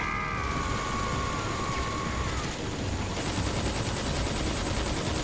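Sustained gunfire from Metal Gear Solid 3: Subsistence, a dense, unbroken stream of rapid shots under ringing tonal effects, loud and continuous throughout.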